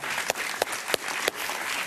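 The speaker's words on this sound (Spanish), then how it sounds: "Un aplauso para él" Studio audience applause on a Spanish-language TV talk show, a steady dense wash of clapping lasting about two seconds with a few sharper individual claps standing out.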